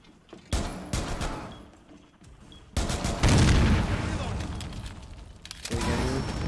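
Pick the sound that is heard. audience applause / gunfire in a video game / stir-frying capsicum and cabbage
gunfire in a video game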